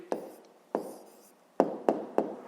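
Five separate, fairly close taps and scratches from writing down the answer to a grade 5 math problem, well spaced at first and then quicker near the end, over an otherwise quiet room.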